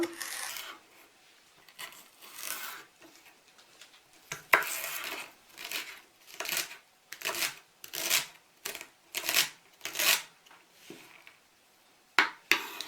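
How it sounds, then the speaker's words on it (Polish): Knife dicing celery stalks on a cutting board, a run of crisp, evenly paced chops that grow quicker and more regular in the second half, close and fairly quiet, with no talk. "Seler naciowy pokroję w kostkę."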